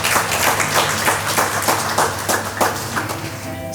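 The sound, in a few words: applause for the newlyweds at a wedding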